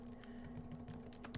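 Steady clicking of keys on a computer keyboard as a name is typed, a quick close run of taps over a constant low electrical hum.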